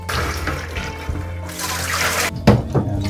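Water runs and splashes continuously over a cyanotype print being rinsed after tannic acid toning, a steady close pour that briefly thins out before a louder splash near the end.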